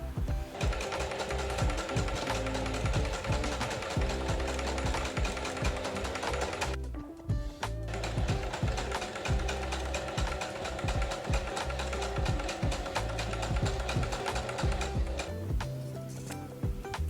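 A sewing machine zigzag-stitches the edges of a fabric pocket, running loud and steady at close range with rapid rhythmic clatter and one short pause midway.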